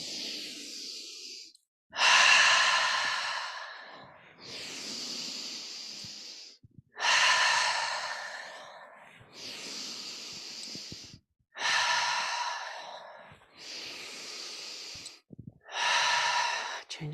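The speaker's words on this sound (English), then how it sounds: "take a deep breath in. Big circle, exhale with a sigh." Slow, deep meditation breaths, close and clear: about eight long inhales and exhales alternate, some exhales released as audible sighs, with no speech.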